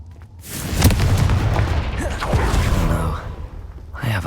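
A Confringo fire spell bursts in Hogwarts Legacy, a loud booming blast with a sharp onset that rolls into a sustained rumbling roar, with a softer pop near the end.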